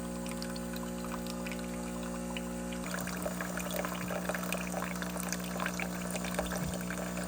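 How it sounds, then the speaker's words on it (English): A De'Longhi Magnifica Evo espresso machine runs a water rinse cycle during descaling, with a steady pump hum and continuous pouring and trickling water that grows busier partway through, close and alone with no talk. "hit the button again and let the machine finish the job with another full rinse"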